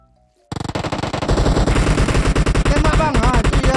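Rapid automatic gunfire in PUBG Mobile, a loud continuous burst of dense shots starting abruptly after a moment of quiet and running to the end, with a brief sweeping tone near the finish.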